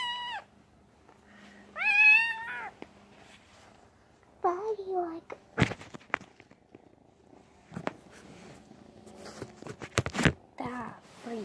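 A cat meows several times in high, wavering cries between soft purring and rustling, while a person speaks briefly nearby.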